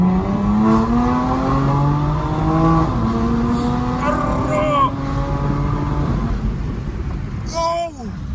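BMW M3 F80 with an equal length exhaust revving up and down through gears, rising engine tones with crackles, close and loud; people talk and exclaim over it.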